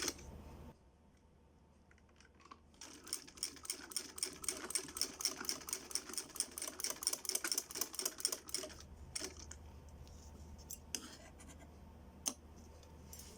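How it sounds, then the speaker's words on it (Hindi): A sewing machine stitches the pocket of a lehenga, starting after a quiet pause with a rapid mechanical rattle that speeds into close, rhythmic clatter, then slows to scattered clicks and stops. "ये मैं लहंगे की जो है सिलाई कर रही हूँ।"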